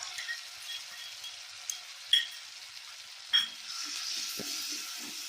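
Spices sizzle and fry in a pan with browned onions for a prawn curry, a soft, steady hiss with a few scraping stirs and light knocks. No one speaks.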